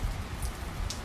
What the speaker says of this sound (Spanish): Ahora mismo, si ven atrás, está lloviendo, el día está nublado.